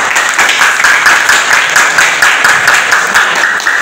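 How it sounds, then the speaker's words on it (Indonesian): A classroom audience claps in a loud, dense burst of applause that stays even and continuous throughout, close to the listener. "Kita beri tepuk tangan."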